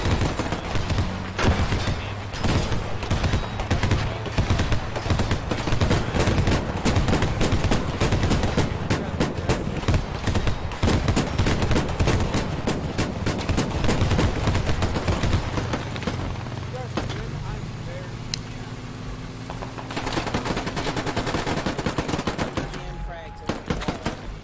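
Sustained automatic rifle fire in the military shooter Squad, in a Fallujah sandstorm battle, with long, loud, dense bursts from close by and distant shots, under occasional shouted voices.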